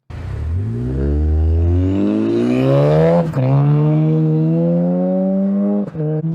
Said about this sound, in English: you get a little exhaust clap, it sounds like, and then you have a nice turbo hiss